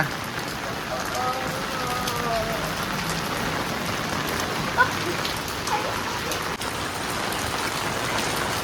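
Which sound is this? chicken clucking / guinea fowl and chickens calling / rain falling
rain falling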